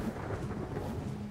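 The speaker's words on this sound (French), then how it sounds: "Il pleut tout le temps." Steady rain with rolling thunder in the video game ARK, a continuous broadband wash of rumbling weather that holds at an even level throughout, with no voices.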